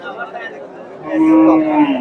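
A desi dairy cow at a cattle market lets out a loud, drawn-out moo nearby, with market chatter and voices in the background.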